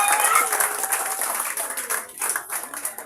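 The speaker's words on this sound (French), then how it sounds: "Applaudissez pour elle." Audience at an award ceremony for a holistic medicine researcher applauds, clapping strongest at the start then thinning into scattered claps, with murmuring voices mixed in.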